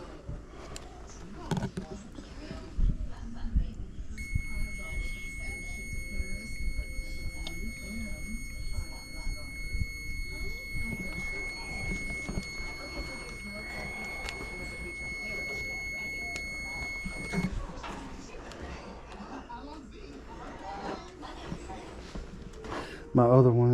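A carbon monoxide meter alarm sounds during a furnace check, a steady high electronic tone lasting about thirteen seconds under a voice and background noise.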